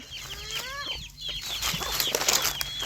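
Bantam chickens cluck and cackle at evening feeding time on a farm, with repeated short clucks and a rising call, fairly close over faint outdoor background noise.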